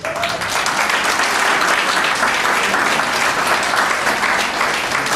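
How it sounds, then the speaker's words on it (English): Wedding guests in a country club ballroom give sustained, dense applause, loud and even, filling the room for several seconds. "How about a round of applause, ladies and gentlemen?"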